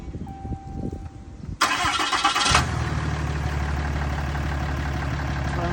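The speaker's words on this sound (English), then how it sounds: "So you come in and turn the vehicle on." A 2015 Ram 3500 diesel pickup cranks and fires up, a brief burst of starter whirring that settles into a steady, low, rumbling diesel idle, close and loud with no talk.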